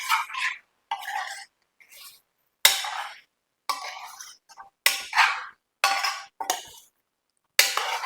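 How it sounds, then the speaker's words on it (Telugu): Chicken with red lentils stirred in a pot, heard as a series of close, short scraping and clinking spoon strokes separated by brief silences. "ఇదంతా చికెన్కి పట్టే వరకు బాగా కలుపుకోవాలి."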